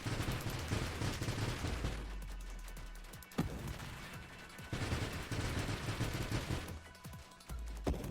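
Rapid enemy shots in the space shooter Nova Drift, a dense, steady stream of bursts pumping out continuously, fairly loud, with short dips in intensity between waves of fire.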